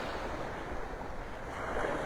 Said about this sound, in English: as I walk down the beach